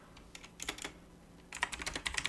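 Typing on a computer keyboard, with a few scattered keystrokes followed by a quicker, steady run of clicks, close and clear with no voices.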